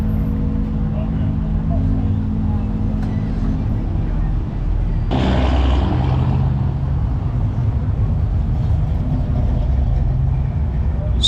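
Antique cars roll past at an outdoor town car show, a steady low engine rumble with one louder vehicle surging by midway, while people talk nearby.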